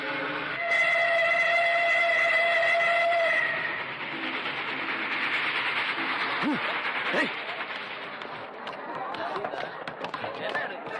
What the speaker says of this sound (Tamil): சார், ட்ரெயின் போயிடுச்சு.